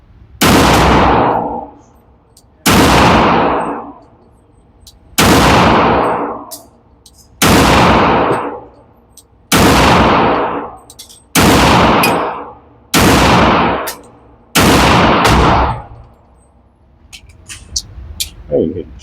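Eight sharp, loud pistol shots from single-stack 1911 handguns at an outdoor shooting range, fired one at a time about two seconds apart, each crack ringing out briefly before the next.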